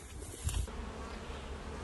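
Honey bees at a garden hive in August, a steady soft buzzing drone that fills the whole short moment at low volume, with a faint bump partway through and no voices.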